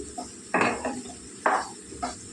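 A metal lid is set onto a pot of drumstick and brinjal curry, giving two distinct clanks with lighter rattles after each, close and fairly quiet with no talk.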